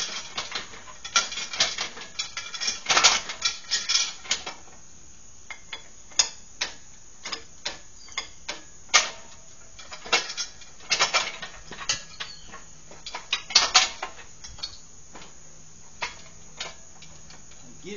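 Harbor Freight shop crane's hydraulic jack being pumped, a series of sharp clicking ticks in irregular bursts, close and moderately loud, with quiet gaps between strokes.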